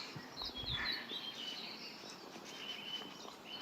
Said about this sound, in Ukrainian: Не знаю, чи чути, як співають пташки.